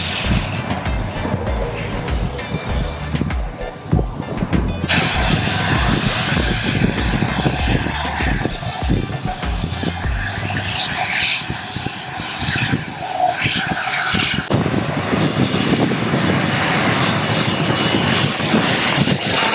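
A jet airliner's engines roar at Maho Beach in St. Maarten, a loud, close, continuous broadband blast that holds steady for the whole stretch, with a slight shift partway through.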